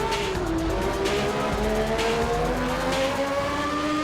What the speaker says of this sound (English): But this V12 just drowns out his V10 completely.